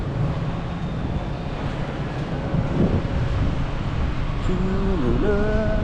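Steady wind rushing past the microphone with a low, constant roar, joined near the end by a faint rising engine-like drone.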